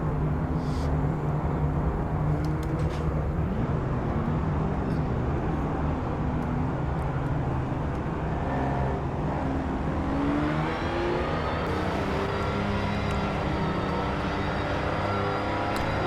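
Race car engines in the Project Motor Racing video game roar steadily and loudly throughout, with rising and falling revs, gear changes and other cars whining nearby, no talk.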